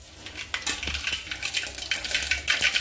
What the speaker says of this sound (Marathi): आता अर्धा चमचा आपण राई टाकून घ्यायची